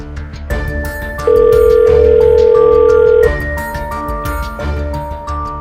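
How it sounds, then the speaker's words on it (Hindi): A telephone call rings with a repeating electronic ring pattern and a steady tone held for about two seconds in the middle, loud and alone with no voices. "ऑफिसर दास को फोन लगाकर देखता हूँ।"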